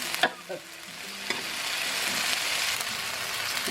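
Chinese sausage and pork stir-fried in a hot pan give a steady broadband sizzle, with a few sharp scrapes of a utensil near the start and no voices.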